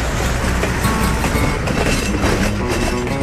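A freight train rolls along its tracks, close and loud, with a dense, continuous rumble and rhythmic wheel clatter filling the whole stretch and no voices over it.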